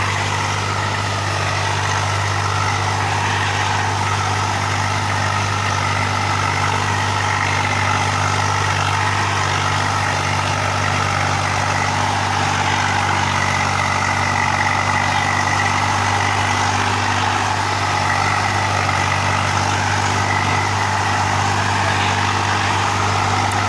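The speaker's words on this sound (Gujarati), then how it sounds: "તો ઝાડ ચડવાનું સ્ટાર્ટ કર્યું છે અને કેટલી બધી તાકાત કરવી પડે છે આ ટ્રેક્ટરને." A tractor hauling a trolley loaded with over 300 maund of maize labours up a slope, its engine a constant heavy low drone that holds unbroken and loud throughout.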